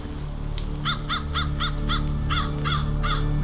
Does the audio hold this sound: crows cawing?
yes